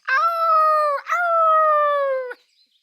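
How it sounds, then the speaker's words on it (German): A dog howls in two long sustained tones, the first breaking briefly before a second drawn-out howl, loud and close with no other sounds. "Ich bin Friedas Wachhündin."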